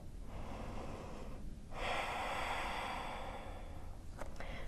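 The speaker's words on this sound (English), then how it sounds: "Deep breath here." A deep breath taken during an energizing morning yogalates routine, a long, close, airy inhale or exhale swelling for a few seconds and then easing off, with no talking.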